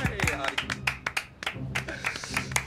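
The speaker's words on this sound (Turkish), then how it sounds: "Bakın alkışlıyorum." A person claps hands in applause, a quick series of sharp, close claps mixed with people talking in Turkish.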